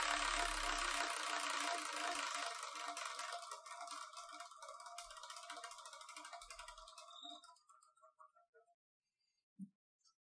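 A prize wheel spins fast with a dense ticking rattle that gradually slows, the clicks spacing out and thinning until the wheel stops, then a short thud near the end.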